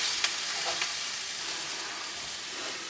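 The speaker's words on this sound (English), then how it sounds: "this handy dandy tool breaks up the meat really well while it's cooking" Ground meat sizzles steadily while browning in a non-stick pan, with a few soft scrapes and taps as a nylon tool breaks it apart; the frying noise is close and continuous.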